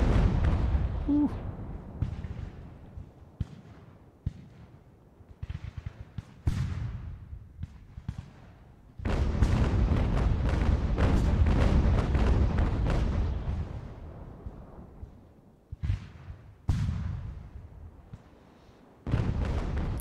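Warship cannon broadsides in the naval battles of Ultimate General: American Revolution, repeated heavy booms in irregular bursts and rolling volleys, some clustered, others isolated, with quieter gaps between.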